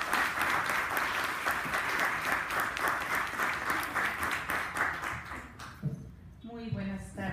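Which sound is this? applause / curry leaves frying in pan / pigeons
applause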